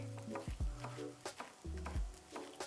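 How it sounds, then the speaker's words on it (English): Scallion whites sweating in hot vegetable oil in a pan for stir-fried soy sauce noodles, a low sizzle broken by several clattering knocks and scrapes from close by. "Hot pan, vegetable oil in, and then we sweat a bit of the scallion whites just for some fragrance"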